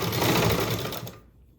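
A sewing machine stitches piping onto a blouse neckline in a quick, dense burst of needle clatter and motor whir, close by, stopping abruptly near the end.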